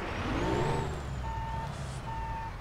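Reversing alarm on a truck in American Truck Simulator, sounding three steady evenly spaced beeps over a continuous low engine rumble, with a faint hiss late on.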